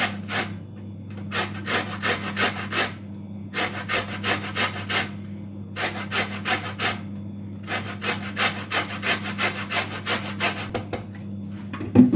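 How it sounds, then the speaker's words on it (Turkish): Lemon peel rubbed across a grater in a home kitchen, steady rasping scrapes in regular bursts of strokes with short pauses between, close and fairly loud over a low steady hum. "Limonun kabuğunu rendeleyeceğiz yani"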